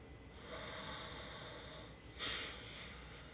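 A single soft breath is drawn through the nose during a quiet guided meditation, one brief breathy rush over a low, even hiss.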